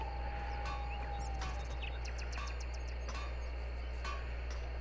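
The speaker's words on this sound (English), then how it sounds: "Do you hear the birds chirping?" Faint, scattered bird chirps in a video game, over a steady low hum of ambient background, with no one talking.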